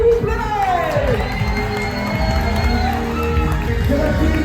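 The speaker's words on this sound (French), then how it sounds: "Faites un maximum de bruit pour Jade et Alicia, s'il vous plaît." A large live crowd at a festive weekend event cheers, whoops and shouts loudly and continuously for two performers, with voices rising over the steady roar.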